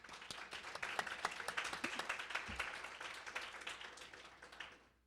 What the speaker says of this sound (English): Let's all give a round of applause to the chair of the English department